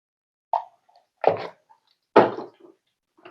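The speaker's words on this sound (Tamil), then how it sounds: "கடுகு கொஞ்சமாக போட்டு அடுத்து சீரகம்" Mustard seeds and then cumin dropped into a pan for crab curry give three short, distinct plopping impacts spaced apart, close and fairly clear in an otherwise quiet kitchen.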